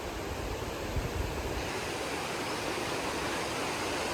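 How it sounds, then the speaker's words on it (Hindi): A glacier-fed river on a Himalayan trek gushes out as if from a tunnel, a steady, dense roar of rushing water with no pauses, close and fairly loud throughout. "यहाँ ऐसा लग रहा है जैसे एक टनल के अंदर से नदी निकल रही है।"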